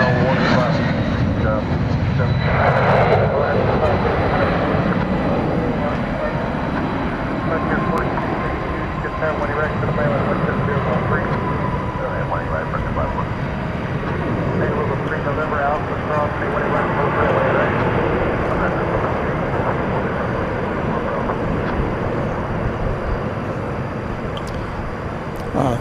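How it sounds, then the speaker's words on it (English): Airbus A321 airliner arriving from Phoenix at DFW Airport at night, a steady broad engine roar sustained throughout at moderate distance, with talk in the background. "that arrival was from Phoenix and Airbus A321"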